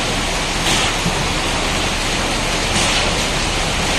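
Rain falls steadily as a dense, even hiss throughout, loud and unbroken, with no voices.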